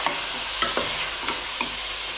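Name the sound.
meat searing in a preheated Bosch Cookit pot, lid open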